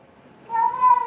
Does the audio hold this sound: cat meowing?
yes